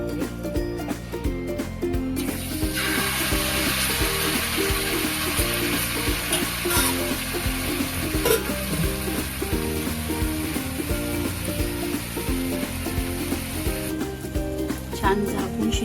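Malpua batter fries in a pan with a loud, steady sizzle that runs for most of the stretch, mixed with scraping and handling noises close by.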